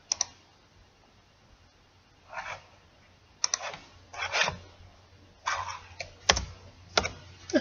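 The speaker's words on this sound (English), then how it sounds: "And I can't type right now." Quiet clusters of clicking keystrokes on a computer keyboard arrive in short irregular bursts separated by pauses, faint and close, with no voices.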